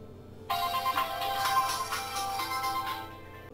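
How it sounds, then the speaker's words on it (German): A telephone ringtone chimes steadily for about three seconds in the Die Gilde 2 strategy game, a bright electronic ring that starts abruptly and plays alone at moderate loudness. "Das Telefon am Klingeln"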